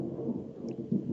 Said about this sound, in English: Hold for Thunder.